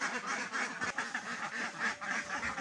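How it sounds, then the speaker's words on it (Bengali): Many ducks at a duck farm quack and call continuously in a dense, busy chorus, close by and fairly quiet, with no talking. "আর দেখেন হাঁসের ডাকাডাকি আগের মতো কিন্তু স্বাভাবিক হয়ে গেছে।"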